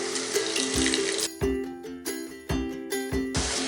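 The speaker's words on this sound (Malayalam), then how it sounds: "അരച്ചെടുത്ത മിക്സിയിൽ നമുക്ക് 1/2 ഗ്ലാസ് വെള്ളം ഒഴിച്ച് ഇതിലോട്ട് ഒഴിച്ചു കൊടുക്കണം." Water swirled in a mixer-grinder jar is poured into carrot pachadi. It comes as several close, splashy bursts of pouring broken by brief pauses, with a ringing, hollow tone from the jar.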